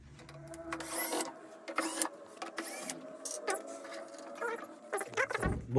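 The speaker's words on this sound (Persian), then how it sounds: "این 3 تا پیچ رو باید باز کنیم که این صفحه رو جدا بشه" A cordless screwdriver removes screws from a Yamaha digital piano with touch sensor repair under way, giving several short, close whirring bursts separated by brief pauses and light handling clicks.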